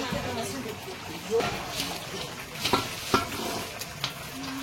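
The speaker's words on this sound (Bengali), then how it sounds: "ঝোলটা ফুটছে" A katla fish curry sizzles and bubbles steadily in a pan at close range while a spoon stirs and scrapes now and then; people talk in the background.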